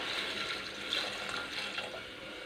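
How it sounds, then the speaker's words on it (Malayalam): Water pours into a pressure cooker holding a green gram masala curry, a soft, continuous splashing trickle that is quiet and steady throughout, with no speech. "ഇനി നമുക്ക് ഇവയെല്ലാം വേകുന്നതിന് ആവശ്യമായ വെള്ളം കൂടി ആഡ് ചെയ്ത് കൊടുക്കാം"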